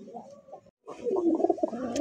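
A pair of Rasgolla racer pigeons coos softly close by. A brief low murmur comes first, then a short pause, then a rolling, throaty coo.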